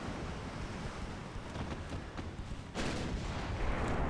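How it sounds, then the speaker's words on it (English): A torpedo launch in a naval video game: a steady rumbling wash of engine and sea noise that abruptly swells into a louder, sustained rushing hiss partway through, with no talk. "there's the torpedo launch"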